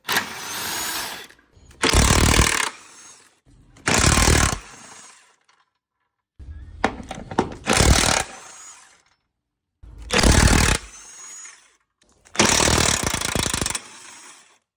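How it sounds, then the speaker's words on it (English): Impact wrench undoing subframe retaining bolts on a Vauxhall 1.6 diesel, loud close rattling hammering in six separate bursts of about one to two seconds each, with quiet pauses between them and no talk. "we're going to proceed to remove these retaining bolts for the subframe"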